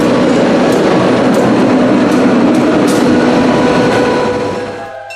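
A Cincinnati Scenic Railway train rumbles past close by with a steady, loud roll of wheels and cars, easing off and fading in the final second.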